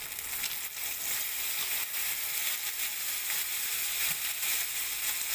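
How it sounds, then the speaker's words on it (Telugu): Finely chopped tomato pieces frying in a pan with ginger-garlic paste, giving a steady, close, hissing sizzle with faint crackles throughout, no voices. "ఇప్పుడు సన్నగా కట్ చేసుకున్న టమాటో పీసెస్ వేసుకున్నామండి"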